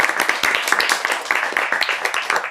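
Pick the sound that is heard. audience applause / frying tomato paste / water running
audience applause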